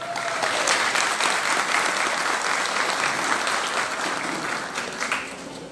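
Sustained applause from an audience at a community friendship festival ceremony in Brazil, loud and steady throughout before easing slightly at the end.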